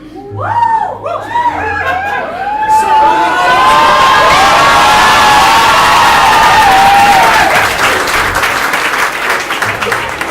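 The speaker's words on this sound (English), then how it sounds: "So much clapping, so much applause." A big crowd cheers and applauds loudly and without a break. Whoops and shouted voices rise at the start, then steady clapping fills the rest.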